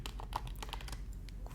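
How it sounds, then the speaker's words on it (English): Rapid, irregular typing on a computer keyboard, close and crisp, with steady clicking keystrokes filling the whole moment and no voices. "You don't mind that I'm typing this out, do you?"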